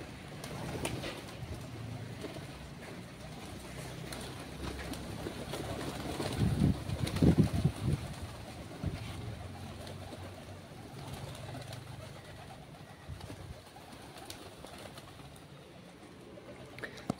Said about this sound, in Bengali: সবগুলি কবুতর থাকে ওই বিল্ডিং এ